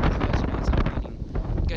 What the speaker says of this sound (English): it was very windy. Like, it was so gusty